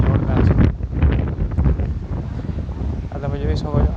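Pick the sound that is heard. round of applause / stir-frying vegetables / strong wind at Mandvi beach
strong wind at Mandvi beach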